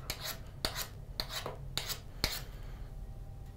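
A knife is drawn along a sharpening stone in about five distinct rasping strokes at an even pace, close and clear with no talk.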